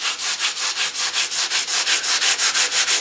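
80-grit sandpaper on a flexible block is rubbed by hand across the body of a 1933 Ford Coupe during collision repair, feathering primer edges around a chip: quick, even back-and-forth strokes, about five per second, close and loud with no talking.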